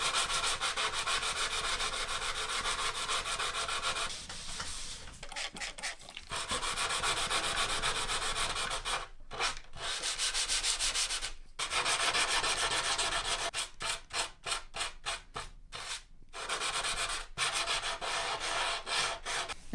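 Wet sanding an epoxy seam on a surfboard with 90 grit sandpaper makes a steady, close, abrasive rubbing that runs almost continuously, broken by brief pauses and quick back-and-forth strokes.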